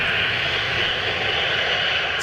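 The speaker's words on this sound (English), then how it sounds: "When he was actually turning off, he still had his reversers activated." Jet airliner engines roaring with thrust reversers still deployed after landing, a loud, steady broadband rumble and hiss that holds without a break and with no voices.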